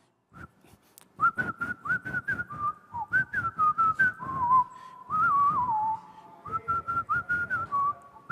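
A taxi driver on an Argentine TV game show whistles a lively melody in a timed 30-second challenge: loud, close, continuous phrases of quick staccato notes with occasional longer sliding tones, heard alone.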